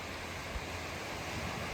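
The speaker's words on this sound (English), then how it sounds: "The waves are a little choppy and the water is not as still as it was" Choppy waves wash steadily across open water along a Rochester shoreline with rocks nearby, a constant broadband rush with faint wind and no distinct breaks.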